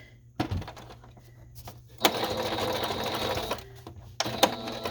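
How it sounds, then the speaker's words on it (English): Sewing machine back stitching to lock the seam on fabric for a ring-bound folder cover, running in short close bursts: a brief whir, a sustained steady stitching run, then a final quick burst with clicks. "Now I'm going to back stitch and seal that off."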